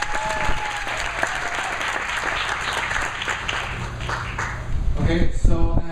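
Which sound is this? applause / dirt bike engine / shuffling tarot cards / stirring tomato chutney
applause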